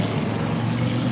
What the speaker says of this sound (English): Shut up, motorcycle.